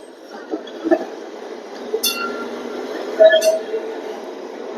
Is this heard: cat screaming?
no